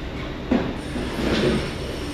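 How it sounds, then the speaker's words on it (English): A train departs from a German railway station, a steady rumbling rail noise with a faint high whine and a slight swell of rolling wheels. "Oh, it's about to depart."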